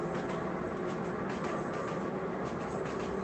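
A train runs in a student-built virtual world, heard as a steady, even rumble and hiss at moderate level for the whole stretch with no speech over it.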